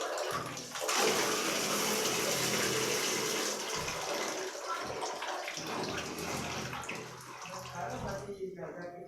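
Water rushes steadily from the tap of an instant water geyser during a repair check, a loud continuous gush that trails off near the end, with someone talking over it.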